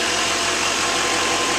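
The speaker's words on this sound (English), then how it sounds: "Truck sounds great and it runs smooth." The 6.6L diesel engine of a 2011 GMC Sierra 2500 Denali truck runs steadily, a loud, even rumbling idle with a low, constant vibration and no pauses.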